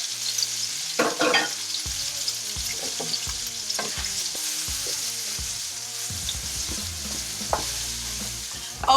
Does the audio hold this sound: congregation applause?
no